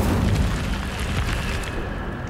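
A fire spell is cast in the Hogwarts Legacy video game, a loud, dense, roaring burst of flame that fills the short moment without letting up.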